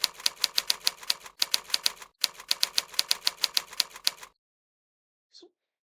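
Rapid typing drills on a computer keyboard produce fast, evenly spaced key clicks in three quick runs that stop abruptly, followed by near silence.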